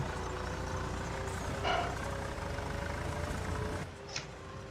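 A tractor engine idles in Farming Simulator 25, a steady low rumble running throughout with a couple of brief higher tonal blips near the middle and end.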